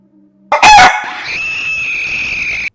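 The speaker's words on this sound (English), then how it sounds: "Chicken." A rooster crows once, loud and close, a sharp rising call followed by a long sustained, slightly strained note that fades out abruptly.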